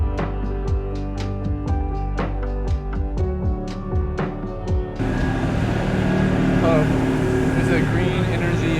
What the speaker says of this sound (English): street sweeper, pretty cool. Fully electric, very loud still though.